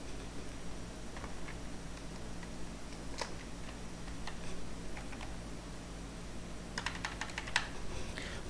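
Someone types on a computer keyboard while filling in form data in a web application. The keys click quietly in short bursts and pauses, ending in a quick flurry of presses.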